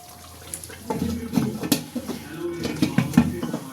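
A metal lid is set onto a cooking pan of simmering milk chicken curry, giving several light clinks and clatters of metal against metal in a quiet kitchen.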